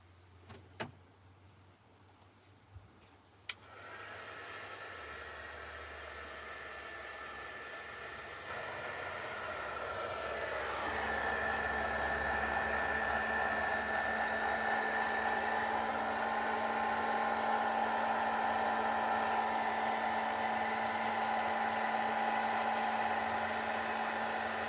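A hair dryer blows over wet paint on abstract artwork, a steady whooshing motor hum that switches on after a few clicks and grows louder and more constant, heard close and alone.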